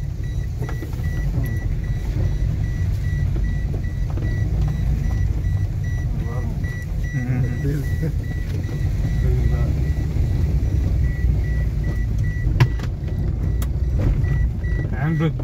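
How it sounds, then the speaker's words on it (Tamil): A car creeps down a steep slope at TPM Coonoor with its handbrake applied, giving a loud, steady engine and road rumble that runs throughout, with voices talking now and then over it. "ஹேண்ட் பிரேக் போட்டு இழுத்துட்டு போகுது."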